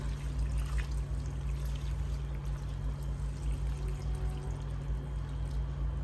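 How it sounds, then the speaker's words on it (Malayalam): Water poured from close by into a curry pot holding spinach and colocasia with turmeric and salt, a steady continuous trickle and splash against low, even background rumble, with no talking. "കുറച്ച് വെള്ളം ഒഴിച്ച്"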